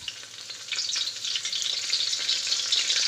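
Chili dropped into hot oil and ghee, a close, steady hissing sizzle that swells and holds loud throughout.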